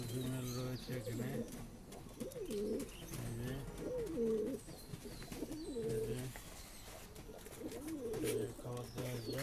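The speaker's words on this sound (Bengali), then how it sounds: "খুব ভালো পায়রা। চলে আসি, কিছু জাপানি মেল ফিমেল রয়েছে এখানে।" Japanese high flying pigeons, male and female, kept for breeding, coo in repeated soft rolling phrases, close and fairly clear, with some faint chirps and background noise.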